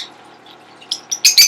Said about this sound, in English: they're starting to chirp a little more